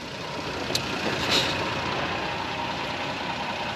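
A Toyota Tacoma truck drives on a mountain trail, giving a steady, moderately loud engine drone and rumble, with a couple of faint brief squeaks and rattles and no talking.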